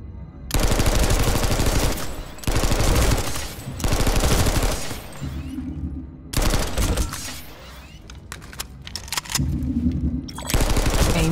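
Gunfire in Planetside 2 during a new-player training exercise: repeated loud bursts of rapid automatic fire separated by short pauses, continuing throughout with no talk.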